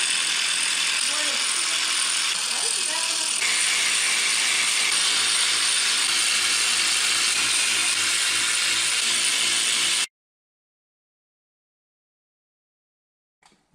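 A hand ratchet turns out the oil pump and front sprocket bolts on a BMW engine. Rapid, close clicking runs continuously for about ten seconds, then stops and leaves near silence.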